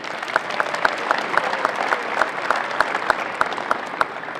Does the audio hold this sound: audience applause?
yes